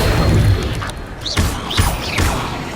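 The Incendio fire spell being cast in Hogwarts Legacy, heard as a few short whooshing bursts with dull thumps amid ongoing game sound.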